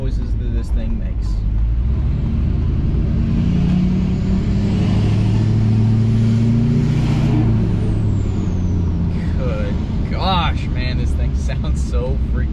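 Truck engine with an AirDog DF-165-5G fuel system, heard while driving: a loud, steady low rumble with surging throttle, a rising whine midway and a brief hiss near the end.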